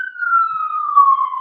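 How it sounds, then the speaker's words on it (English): An emergency vehicle siren wails loud and close, a single steady tone sliding slowly downward in pitch, with no voices over it. "we got the sirens."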